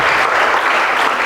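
A church congregation claps steadily at a preacher's call to cheer for God, dense and loud sustained applause filling the whole moment with no pause.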